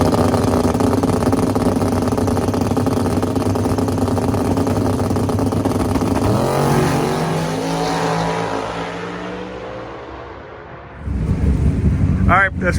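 A drag race car called Snot Rocket idles at Sick Week 2025 while being turned around, its steady, loud engine drone shifting pitch midway, then roaring up again near the end.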